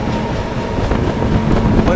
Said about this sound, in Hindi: सामने से शायद कोई गुड्स ट्रेन आ रही है